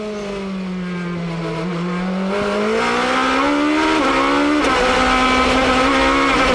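GP2 race cars at speed in the 2007 Spain sprint race at Barcelona, a loud sustained engine howl that rises and falls with shifts and revving, close and continuous with no talk.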